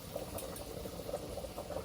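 Butter and olive oil melt in a pan on the stove, giving a soft, steady low sizzle and bubbling with no voices.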